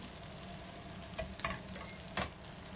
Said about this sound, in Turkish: Dışı çıtır çıtır, içi de pamuk gibi harika bir somon kızartmış olduk